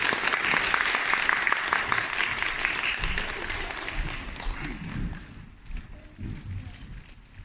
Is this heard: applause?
yes